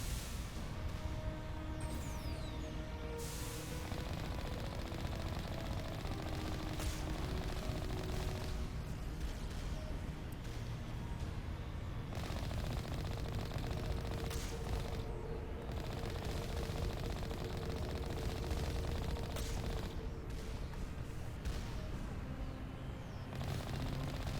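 Turret gunfire in the Mass Effect Legendary Edition video game, a dense, continuous barrage of rapid shots and blasts that stays loud throughout.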